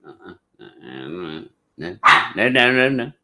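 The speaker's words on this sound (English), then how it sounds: "He's a pup. He doesn't know." A young puppy yipping and barking in a series of short, high, strained yelps and whiny barks, close and loud, with breaks between bursts.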